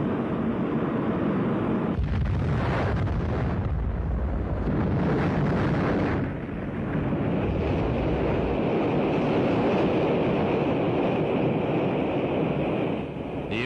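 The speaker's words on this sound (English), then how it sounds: "The immediate cause of the explosion is not known." An Atlas-Centaur rocket exploding shortly after launch at around 30,000 feet, heard as a loud, sustained broadband roar with rumbling surges and bursts, continuous throughout with no talk.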